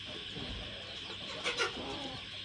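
Young chicks give a few faint, brief clucking chirps in a farm shed floored with sacks after rain, heard low over a steady background hiss.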